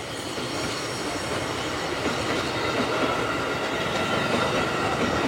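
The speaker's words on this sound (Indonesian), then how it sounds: "Ada suara kereta." A commuter electric train rumbles past close by, a continuous loud roar of wheels on rails with faint squealing, steady throughout with no voices.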